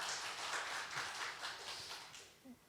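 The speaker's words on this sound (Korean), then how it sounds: "박수 한번 보내주세요" Brief scattered clapping from a small church congregation during a sermon, soft and a little distant, fading out after a couple of seconds.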